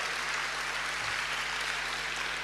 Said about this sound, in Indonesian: Boleh saya dengar tepuk tanganmu yang paling meriah buat Yesus Tuhan kita